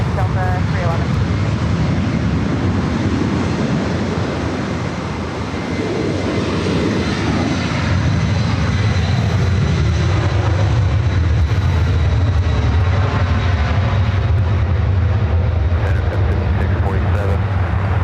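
A Delta airliner takes off at LAX, its engines a loud continuous roar with a shifting tonal whine that swells over the whole stretch, while a radio voice talks underneath.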